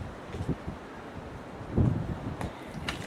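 Wind blows steadily at night, buffeting the microphone with gusty rumbles that swell and fade.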